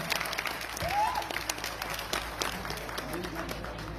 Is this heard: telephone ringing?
no